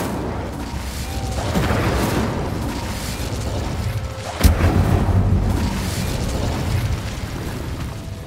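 The Incendio fire spell is cast in Hogwarts Legacy on PS4: a loud, rumbling burst of flame with a sharp crack midway, followed by a roaring, crackling blaze that slowly fades.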